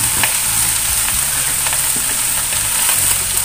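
White mustard greens (sawi putih) stir-frying in a pan give a steady, loud sizzle and crackle with occasional stirring scrapes, continuous throughout with no talking.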